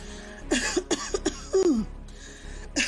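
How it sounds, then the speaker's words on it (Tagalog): A string of harsh coughs, several quick bursts with a longer, strained one near the end, close and fairly loud against a quiet room. "mukhang matindi ang ubo"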